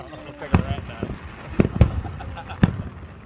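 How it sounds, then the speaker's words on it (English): July 4 fireworks go off in a backyard with several sharp, loud bangs spaced irregularly over a few seconds, and people chatting nearby in between. "watch the fireworks"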